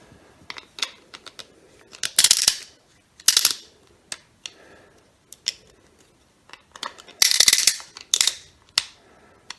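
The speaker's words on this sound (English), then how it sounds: "We are ratcheting." Short bursts of clicking from a ratchet being turned during a careful freeing job, several separate clusters of quick metallic clicks with pauses between them, close and fairly loud, no talking.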